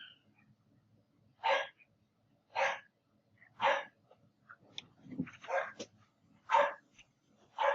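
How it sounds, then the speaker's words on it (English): A dog barks about eight times in separate sharp bursts, fairly evenly spaced and moderately distant, with faint background noise between the barks. "No one wants to hear a barking dog."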